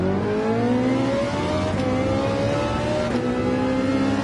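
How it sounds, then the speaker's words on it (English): A Ferrari engine in a racing video game, revved hard and loud with a strong droning tone that climbs steadily and drops at two quick upshifts. No one speaks. "The Ferrari loves to be revved out, just like the Porsche 911 and the Acura, and the Honda NSX"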